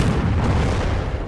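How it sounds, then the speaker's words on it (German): A loud, sustained in-game explosion from Company of Heroes with the NHC and EF mods, a dense rumbling blast that fills the clip for over a second with no talk over it. "Let's just destroy this place. Let's see this explosion."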